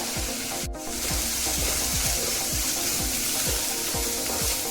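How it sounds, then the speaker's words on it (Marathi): Onion sautéing with salt and garam masala in a pan for a dhaba-style whole masoor curry: a steady, even sizzle runs throughout, with a regular series of soft scraping stirs and one sharp clank near the start, and no talk. "थोडं मीठ घालून घेऊया कांदा लवकर परतून होईल"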